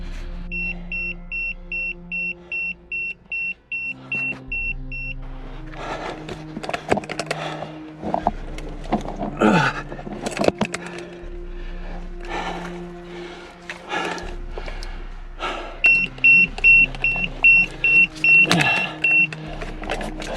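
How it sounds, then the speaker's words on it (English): Beeping alarms from gear carried while exploring old coal mine workings: steady, evenly spaced high electronic beeps repeat through the opening and closing seconds, over scuffing, shuffling movement and breathing in a tight underground passage. "Sorry about the alarms, guys."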